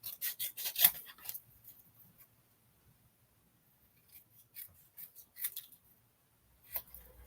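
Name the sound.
scissors snipping out paper card sentiments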